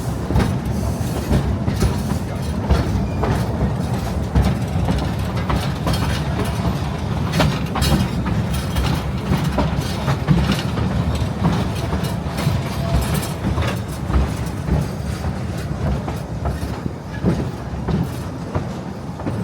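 A steam train rolls on rails through a redwood forest in Santa Cruz, California, with a loud, steady low rumble and a continuous rhythmic clickety-clack of wheels heard from on board.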